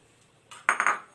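Shredded boiled chicken and mashed boiled eggs being mixed in a bowl: a short burst of close, bright utensil clinks and scrapes against the bowl, three quick knocks following a softer rattle, with no talking.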